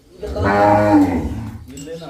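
A single loud, drawn-out moo from a young female calf close by on a dairy farm, lasting under two seconds, with no talking.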